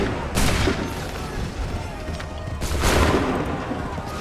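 Musket volley in Assassin's Creed 3: two loud, dense crackling bursts of massed gunfire a couple of seconds apart, over a continuous noisy battle background.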